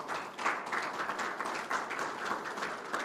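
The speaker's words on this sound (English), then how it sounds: "Give that a round of applause." A crowd applauds at a legislation signing in Atlantic City, a short stretch of steady, fairly faint clapping from a moderately sized audience.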